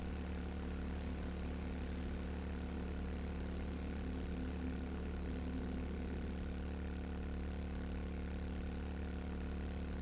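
Vehicle motor running underwater in the survival game 7 Days to Die, a steady droning engine hum with a low rumble that stays constant and fairly loud throughout, with no talk over it.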